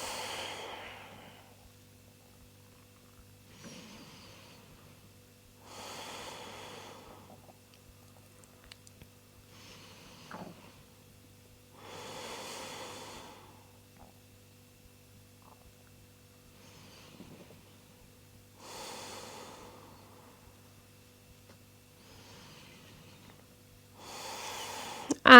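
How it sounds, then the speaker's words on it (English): Slow, deep breaths taken during a yoga session, each long inhale and exhale rising and fading at a steady pace over a faint steady hum, close and unhurried with quiet gaps between breaths. "settling in for some deep breaths"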